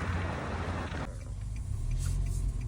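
A car rolls along an empty street with a steady low engine rumble and road noise from inside, getting a little quieter about a second in.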